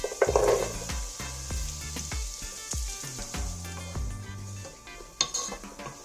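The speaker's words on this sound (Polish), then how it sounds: "dodaję pokrojone buraki i marchewkę i smażę razem chwilkę" Steady sizzling of chopped beets and carrots frying in a pan, with occasional scrapes and clinks of a utensil stirring against the pan, no voices.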